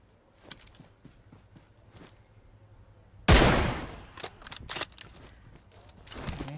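An M24 sniper rifle fires once in a video game, a single loud, sharp shot partway through. Quieter clicks and small mechanical sounds come before and after it.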